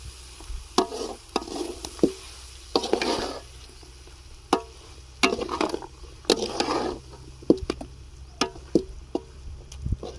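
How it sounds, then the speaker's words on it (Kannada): Freshly ground masala going into a hot pan for boti gojju, with bursts of loud sizzling and repeated sharp scrapes and knocks of a spoon stirring against the pan, close and alone without talk. "ಇವಾಗ ರುಬ್ಕೊಂಡು ಬಂದಿರುವಂತ ಮಸಾಲ ಹಾಕ್ತಾ ಇದ್ದೀನಿ"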